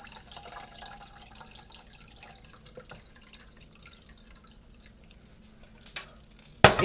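Liquid from cooked barbecue pork ribs drips and trickles steadily, faint and close, ending in a louder splash.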